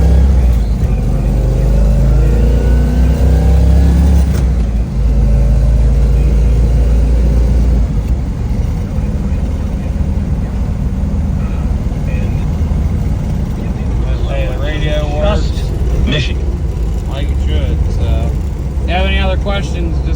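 A restored 1963 Corvette fuel-injected split-window coupe is driven, its engine a steady loud rumble throughout, with a few brief higher tonal sounds near the end.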